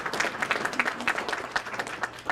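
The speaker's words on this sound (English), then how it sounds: "if we could give them a round of applause" A small audience at a Veterans Day ceremony applauds, a dense patter of clapping hands that holds steady for a couple of seconds.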